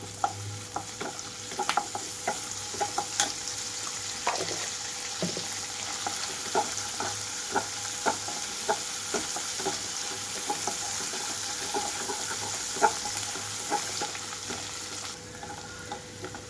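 Onions frying with a spoonful of ginger-garlic paste in a pan for a chicken and yellow cucumber curry; steady sizzle with repeated clinks and scrapes of a spoon stirring, fairly close, no voices.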